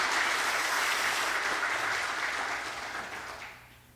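Church congregation claps during a Sunday service, honouring a young man's offertory song and the accompanist, a steady wash of applause that fades out toward the end.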